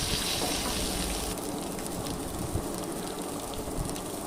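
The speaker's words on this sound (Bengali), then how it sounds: "তেলে দিয়ে ভালো করে আলুগুলোকে ভেজে নিতে হবে।" Boiled potatoes fry in hot oil for a vegetarian aloo dum, a dense, steady sizzling hiss that stays close and even throughout, with no voices.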